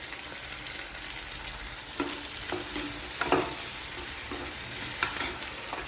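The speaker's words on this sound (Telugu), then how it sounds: "ఇవన్నీ బాగా వేగాలండి." Coriander seeds and cumin seeds frying in a pan for a coriander-mint chutney, giving a steady soft sizzle with a few light clicks and stirring scrapes, close and fairly quiet with no talking.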